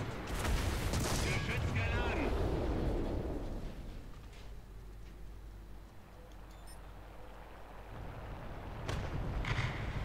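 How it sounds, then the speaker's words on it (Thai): Tank cannon fire in a War Thunder armored battle with a Panzer IV/70 (V) facing a KV-85 and a Tiger: heavy booming blasts open the clip, a low rumble lingers, and another loud blast follows near the end. "ยิงซ้ำอีกรอบนึง"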